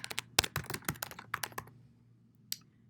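Keystrokes on a computer keyboard while entering a new location into a calendar, a quick close burst of clicks over about a second and a half, then a pause and one last isolated tap.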